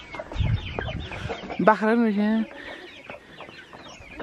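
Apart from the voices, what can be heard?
village chickens clucking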